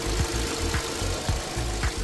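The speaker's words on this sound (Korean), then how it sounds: "LPI, LPG 차량인데 엔진 소리 한번 들어보세요" A 2014 Kia K5 running on LPG/LPI fuel idles quietly, its engine giving a steady low rumble with soft rhythmic knocks about every half second, close up and without voices.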